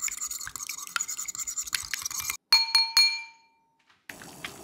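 An egg is whisked in a bowl for a Korean onion dish: quick, rhythmic clinking of a utensil against the bowl, then a few bright ringing taps on the rim before it falls quiet.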